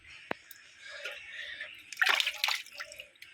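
Water being poured and sloshed while changing the water in a pot holding live American fish, with a brief splash burst in the middle and faint drips around it; no talk.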